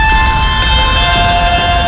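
Trevor's phone ringtone from GTA V, played with added echo: steady sustained bell-like tones ringing loudly and continuously, with a reverberant wash underneath and no talking.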